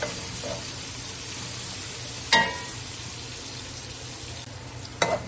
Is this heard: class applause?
no